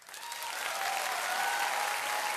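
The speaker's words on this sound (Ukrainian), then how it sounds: "я бачу, як повна зала глядачів стає і аплодисменти не вщухаються" A full theatre audience applauding after a dance performance, a dense, steady wash of clapping that swells slightly and continues without pause, with no voices heard.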